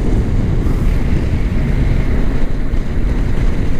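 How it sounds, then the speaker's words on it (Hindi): Cool wind blowing outdoors by a hilly highway, a loud, steady rumbling rush buffeting the microphone throughout, with no voices heard. "बहुत ठंडी ठंडी हवा चल रही थी, अभी भी है"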